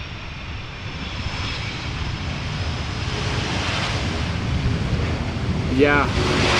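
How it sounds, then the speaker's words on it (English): An 11-year-old Airbus A330 touches down at Amsterdam Schiphol Airport after a nine-hour flight: a steady, broad jet roar grows louder, and a brief tyre squeal comes near the end. "This A330 about to touch down after 9 hours of flight"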